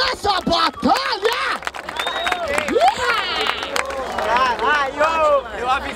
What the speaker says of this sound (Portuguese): Palmas pra essa batalha!